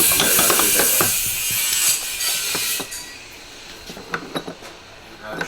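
A ratchet clicks rapidly while tightening a part during a sink repair, loud and close at first, then giving way to scattered sharper metallic clicks and clinks.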